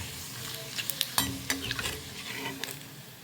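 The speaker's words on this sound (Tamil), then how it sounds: "பாருங்கள், அழகாக பொரிஞ்சு வந்துருச்சு." Kool vathal rice crisps fry in hot oil, crackling and sizzling with sharp bursts of popping and stirring scrapes, close and fairly loud with no talking.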